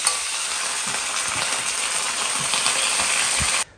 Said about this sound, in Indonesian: sudah mendidih semuanya